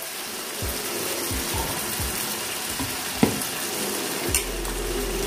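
Spice paste added to a hot frying pan for a Bengali lentil-fritter curry, giving a steady sizzle with light stirring scrapes and a couple of sharp clinks of utensil against the pan.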